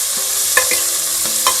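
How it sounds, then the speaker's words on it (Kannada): Thick greens stems stirred in a pan of hot oil with onion and garlic, a steady sizzle broken by several distinct scraping stirs, close and alone. "ದಂಟು ಹಾಕ್ಕೊಂಡು ಸ್ವಲ್ಪ ಹುರ್ಕೊಳ್ಳೋಣ"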